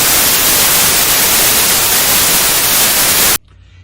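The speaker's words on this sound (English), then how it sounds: "Here's white noise for you." A loud, steady white noise test signal hisses evenly for over three seconds, then cuts off abruptly to near silence.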